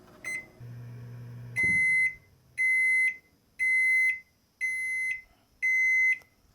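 Samsung gas range control panel beeping while a cooking time is set, a soft low hum followed by five evenly spaced, clear electronic beeps, close and alone.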